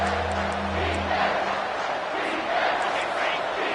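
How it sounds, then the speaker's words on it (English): A college football stadium crowd at Utah versus Colorado roars and whoops on third down, a dense sustained cheer that swells in waves, with some voices mixed in. "this crowd will blow out a vocal cord to help this defense"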